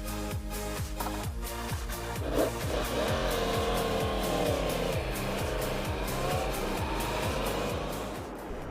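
Sport motorcycle in standard version with carbon parts and an aluminium tank, ridden hard: the engine revs up through a rapid run of gear changes, each shift a sharp sawtooth step, then holds a loud high-pitched scream at speed.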